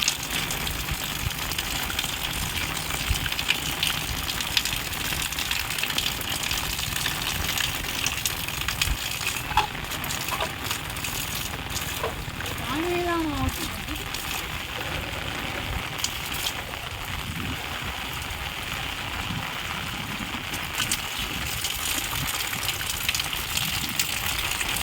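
Monsoon rain pours down in a dense, steady wash of gushing and splashing water that lasts the whole stretch at a constant moderate level, with no speech.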